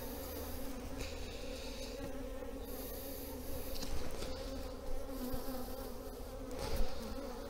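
Honey bees buzz steadily and densely throughout, a close, continuous hum from an open hive being inspected in autumn as the colony prepares for winter.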